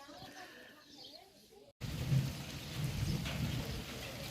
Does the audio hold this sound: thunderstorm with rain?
yes